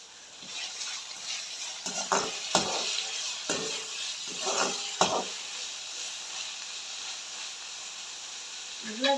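Whole spices such as fennel and mustard seeds crackle and sizzle in hot oil for a Jaffna-style fried potato curry. Scattered pops and spits sit over a steady frying hiss, with a few louder bursts close by.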